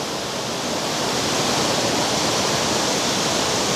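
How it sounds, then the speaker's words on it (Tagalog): Steady, loud rush of a waterfall in Pugo, a continuous broadband roar of falling water with no breaks, heard from nearby. "Para siyang bridal falls."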